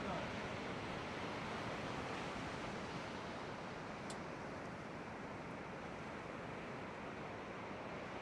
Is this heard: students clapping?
no